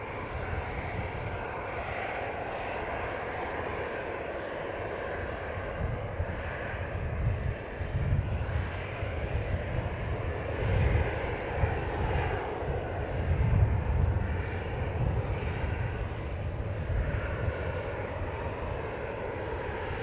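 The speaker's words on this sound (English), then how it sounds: "entering the runway next, we've got this EasyJet. It's an Airbus A320-200" An EasyJet Airbus A320-200 jet on the runway at Manchester Airport makes a steady, moderately distant engine roar that swells slightly in the middle, with no talk over it.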